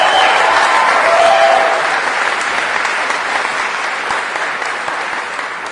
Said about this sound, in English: Another round of applause for our performers tonight.